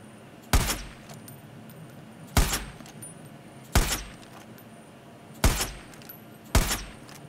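Five loud, sharp gunshots in the Far Cry 5 video game, spaced roughly a second apart, each cracking out clearly over a quiet background.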